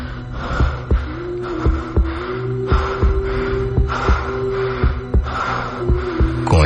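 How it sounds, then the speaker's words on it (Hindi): A steady, slow thumping beat repeats like a heartbeat over a low hum, with a breathy tone drawn out beneath it; no talking. "सिर्फ अश्मित के हांफने की और उसकी तेज धड़कनों की।"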